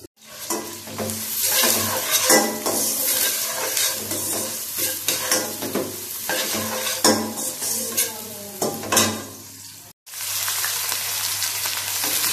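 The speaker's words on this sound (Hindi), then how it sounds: "ये मेरा प्याज फ्राई हो चुका है।" Onions fry in a pan for a vegetable pulao, a loud continuous sizzle broken by repeated scraping and clattering stirs of a utensil against the pan, with a brief pause near the end before the sizzling resumes.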